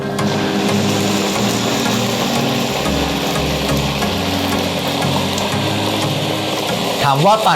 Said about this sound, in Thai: ปั่นแค่ 1 นาทีพอนะครับ เพื่อให้เมล็ดมันแตก